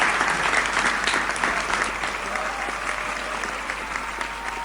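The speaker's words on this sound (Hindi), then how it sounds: "दिल खोल करके जोरदार तालियां बजा करके" An audience at a Hindi comic poetry gathering claps steadily for a poet, the dense applause staying fairly loud and even before easing slightly toward the end.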